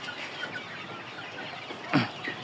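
Sonali chickens in a two-storey poultry farm housing about 4,000 birds give faint, soft clucks over a low room murmur, with one louder brief squawk-like burst near the end.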